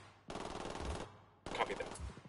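Two bursts of rapid automatic gunfire in a video game, each a dense rattling stream of shots, the second slightly louder and sharper.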